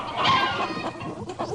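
Hens clucking inside a chicken house, several birds overlapping in a dense, busy chatter of short clucks that stays fairly loud and close throughout.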